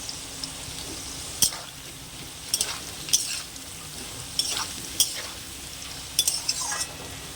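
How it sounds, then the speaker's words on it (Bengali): Soybean chunks with potatoes sautéing in oil with turmeric: a low steady sizzle broken by repeated sharp scrapes of a spoon stirring against the pan at irregular intervals. "তো দেখুন এভাবে আমি কষে সেদ্ধ করে নেব।"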